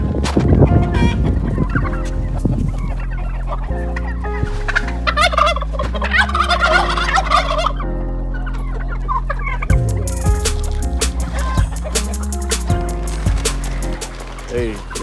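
Backyard poultry gobble and cluck on a homestead, turkey gobbles dominating with chicken and rooster calls mixed in, loud and close, with brief voices and background noise around them.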